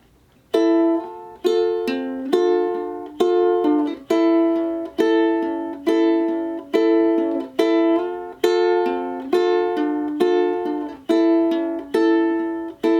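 Ukulele strumming a song's intro, a steady up-down pattern of bright plucked chords with little slides, repeating evenly and clearly for the whole stretch with no voice.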